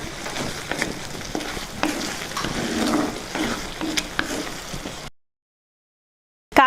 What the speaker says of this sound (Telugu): ఇప్పుడు ఒకసారి బాగా కలుపుకుందాం.